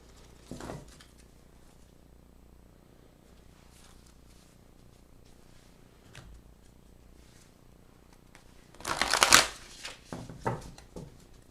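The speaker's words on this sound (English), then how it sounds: "I'm going to pause and shuffle" Cards are shuffled quietly: a short riffle early on, soft handling sounds, then a louder, crisp riffle burst followed by a few more shuffles.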